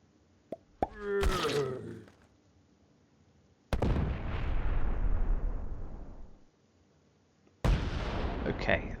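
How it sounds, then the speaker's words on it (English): Fireworks bursting during an online Risk game session: a few sharp pops and crackles, then two heavy booming blasts whose rumble trails off over seconds, the last cut short, fairly loud against an otherwise quiet background. "there is some fireworks going off in the game Discord"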